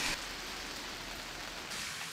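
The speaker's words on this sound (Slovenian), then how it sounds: "a vedno tako dežuje tukaj?" Steady rain falls outdoors on a wet day in a village, a dense, even hiss that stays constant and fairly loud throughout with no voices.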